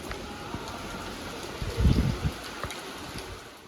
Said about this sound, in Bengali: দেখুন কি জোরে জোরে বৃষ্টি পড়ছে